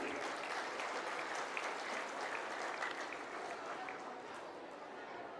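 An audience claps steadily at a Bihar Diwas (Bihar ke Tihar) ceremony welcoming a chief guest: continuous, moderately distant applause with a faint murmur of crowd underneath.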